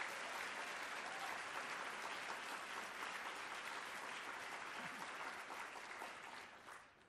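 An audience applauds outgoing trustees after a presidential speech, a thick, sustained roar of many hands clapping at an even level that tapers off in the final second.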